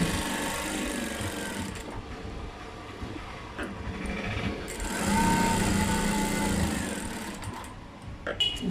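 Sewing machine stitching along the edge of a blouse, a steady mechanical whir and rattle heard close that rises and falls slightly in speed across the stretch, with no voices.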